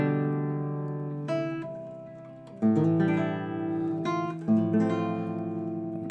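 Guitar playing the opening of Paganini's Sonata 15 with chords and plucked melody notes, close and moderately loud, without any talking.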